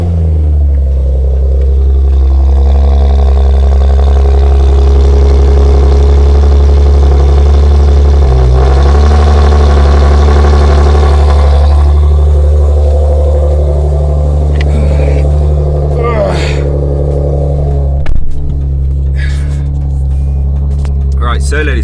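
Nissan 370Z engine starts cold in snowy weather, settling into a loud, steady idle with rising revs partway through; someone speaks over the engine.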